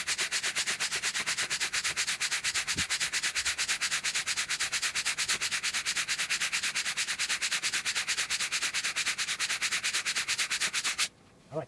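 Rapid, steady back-and-forth rubbing strokes of an abrasive against 1000 denier nylon fabric, loud and continuous like sanding, with no talk, ending abruptly near the close.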